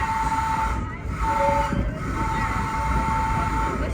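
A New York City subway D train running, with a steady low rumble of wheels and car body, sustained squealing tones and a couple of brief dips in noise, close and continuous.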